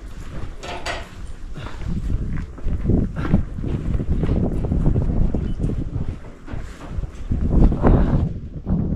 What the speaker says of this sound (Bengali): বাজেভাবে বাতাস।